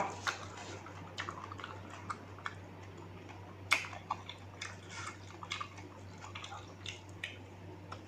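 Chewing on squid tentacles from a dish of egg-filled squid with seafood dipping sauce, heard as close, quiet, irregular wet bites and crunches with no talking over them.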